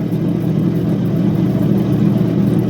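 A lapidary fine grit grinding wheel cutting a sandy opal chip makes a steady, loud motorized whir and grinding drone that holds constant throughout, with no voices over it.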